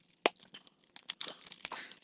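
A Panini collector card pack wrapper tears open in a sharp rip, then a string of crinkly foil rustles and short tearing bursts follow, close and fairly quiet, with no talking.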